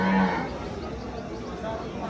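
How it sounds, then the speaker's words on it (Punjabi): A water buffalo at a livestock market in Dhanaula, Punjab gives a short, low moo right at the start, followed by a noisy outdoor background with faint voices. "ਬਹੁਤ ਸੋਹਣੀ ਮੱਝ ਹੈ"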